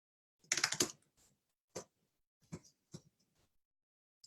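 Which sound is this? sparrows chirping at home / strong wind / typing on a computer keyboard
typing on a computer keyboard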